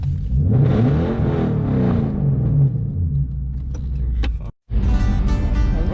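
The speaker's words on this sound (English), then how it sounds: "I decided to just rev my car a little bit so people can hear my engine." A car engine revs at a car meet in Houston, Texas, a loud close rumble that rises and falls over several seconds, cuts out briefly, then resumes with a brighter burst.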